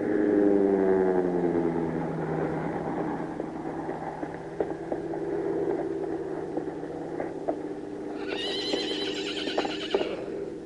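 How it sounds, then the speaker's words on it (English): A herd of horses in a 1937 Western rodeo film, a long drawn neigh opening over rumbling hoofbeats, the galloping continuing with scattered clops, then a second shrill whinny near the end. "I'll see if I can stop the horse herd."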